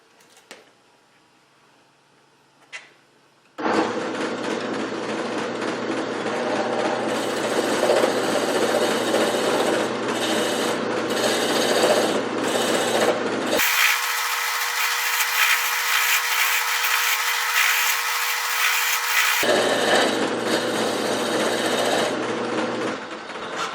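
Wood lathe spinning a goblet blank while a tenon is cut on its end for the chuck; a steady, loud whirring hum starts after a few quiet seconds and runs continuously, with a tonal shift partway through as the tool engages.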